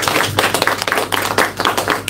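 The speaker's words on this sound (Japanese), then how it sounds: "皆さんパジさんに拍手をお願いします" Audience clapping at a small live show by a copy band, a dense run of hand claps filling the room at steady volume, close and sustained throughout.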